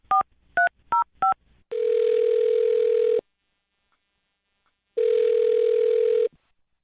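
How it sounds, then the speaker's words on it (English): A telephone dialed by keypad: four quick DTMF beeps, then two long steady ringback tones separated by a pause of silence, clear and close with no voices. "I'll dial her number right now, see if we can get her on the phone."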